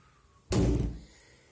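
A single loud, close bang of a door or window slamming in the wind, a sharp impact followed by a short rumbling decay, with quiet on either side.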